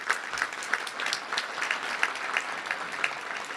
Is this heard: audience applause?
yes